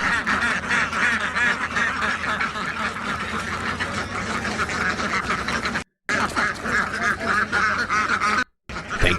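A dense flock of ducks rescued from a fire in Camarillo, California quacks loudly and continuously close by, the overlapping calls filling the air with only brief breaks.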